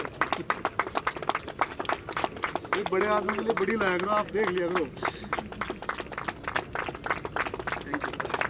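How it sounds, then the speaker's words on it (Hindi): Applause from an audience at an award ceremony in Ladwa, a steady patter of many hands clapping at close range, with someone speaking over it in the middle. "तालियां रुकनी नहीं चाहिए।"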